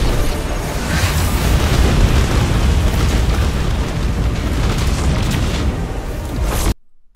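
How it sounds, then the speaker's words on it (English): Missiles exploding in the Destiny 2 video game, a dense, continuous roar of booming blasts and bursts that stays loud for several seconds, then cuts abruptly to silence near the end. "Missiles! Stay inside my shield!"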